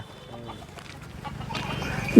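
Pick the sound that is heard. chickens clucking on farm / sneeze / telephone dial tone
chickens clucking on farm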